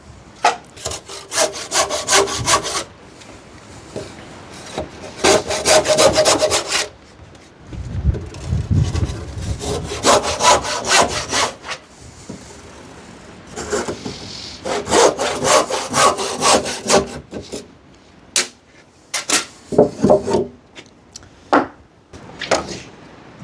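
Plunge saw cutting joints into wooden roof ridge timbers for a large garage, heard as several loud, sustained bursts of sawing separated by short pauses and a few brief rasping strokes.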